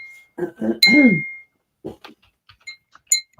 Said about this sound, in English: This is the German bell.